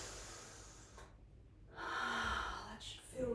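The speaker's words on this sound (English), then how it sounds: "And we're going to breathe." Deep breathing during a yoga stretch in a session for office stress, audible close inhales and exhales with a short quiet pause between breaths.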